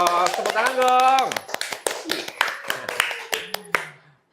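Close hand claps in a talk show studio, a string of crisp separate claps that starts under a sung or voiced tone and continues alone in an irregular rhythm before stopping abruptly.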